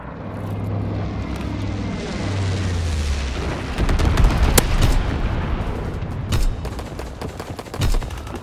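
A low-altitude incendiary bomber airstrike in Call of Duty: WWII opens with an aircraft drone, then a rolling wash of rumbling blasts and crackling fire. Several heavier booms stand out near the end, with no talk over them.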